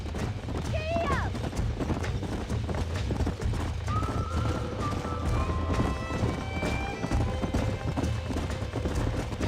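A horse galloping in the video game Red Dead Redemption, with rapid rhythmic hoofbeats and a neigh, under a dense, constant layer of game sound and music.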